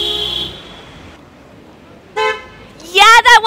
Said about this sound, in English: that was a honk!